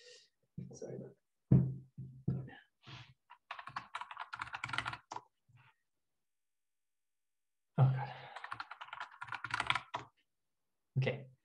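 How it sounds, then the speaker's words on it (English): A cat walks across a computer keyboard, making bursts of rapid clattering keypresses with pauses between, close and fairly loud, while a person talks over parts of it. "My cat is running from my keyboard again."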